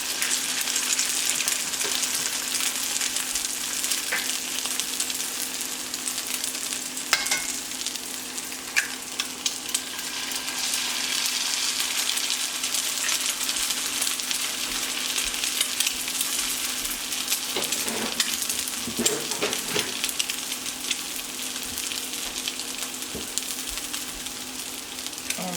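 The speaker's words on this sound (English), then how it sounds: "I'm going to crack the egg right over top." Hashbrowns frying steadily in a skillet with a continuous bright sizzle and crackle throughout, an egg cracked over the top, with no talking.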